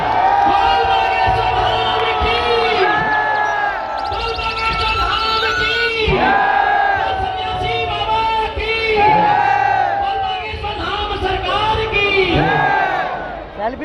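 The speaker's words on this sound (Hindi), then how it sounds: "एक बार जोरदार तालियों से स्वागत है गुरुदेव का।" A huge crowd at a saints' gathering in Nand Nagri district park, Delhi, roars loudly and continuously in welcome, with strong chanting and cheering voices riding over the mass noise throughout.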